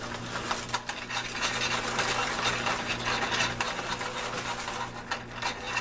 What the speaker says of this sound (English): Got my whisk.